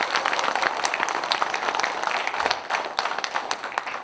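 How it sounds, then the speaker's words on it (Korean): Audience at a Korean lawmaker's 2023 legislative report meeting claps steadily, a dense crackle of many hands close and fairly loud, sustained throughout without talk. "여러분들 통과될 수 있도록 한번 크게 한번 박수 한번 보내주세요"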